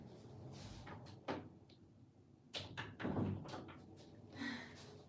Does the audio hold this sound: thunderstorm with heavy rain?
no